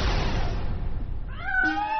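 Cats in a mouse-catching training experiment, animals that no longer hunt mice; a dense rustling background gives way to one clear, close drawn-out meow in the last half second.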